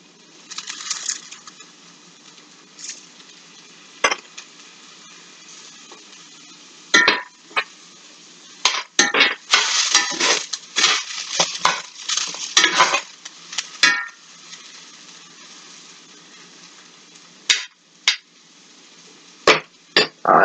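Turnips and potatoes sautéing in a pan with thyme, stirred with a utensil: a steady faint sizzle under repeated scraping and clattering strokes against the pan, bunched mid-clip with scattered single knocks near the end.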